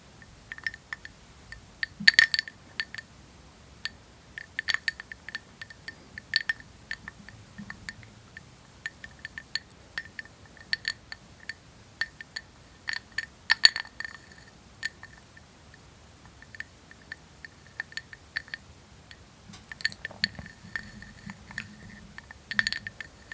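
Ice cubes clinking lightly in a glass of drink, faint scattered chinks recurring throughout in a quiet room.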